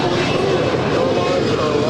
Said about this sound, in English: That is a private A319 departing to San Jose